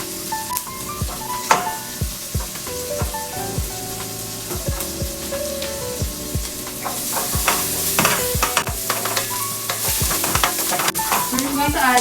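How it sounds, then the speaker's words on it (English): Onions frying in a pan while being stirred, a continuous loud sizzle with repeated scraping and clattering strokes from a utensil throughout, close up and with no talking. "So we just put our onions and we're going to cook it until it is tender."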